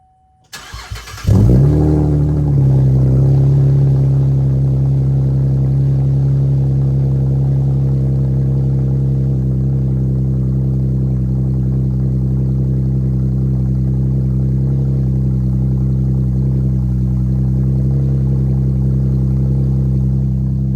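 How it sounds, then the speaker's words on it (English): A 5th-generation Chevrolet Camaro engine with a new exhaust cranks and fires up, then settles into a loud, steady, deep rumbling idle through the throaty exhaust, continuing unbroken. "let's go ahead and fire it up and see what it sounds like"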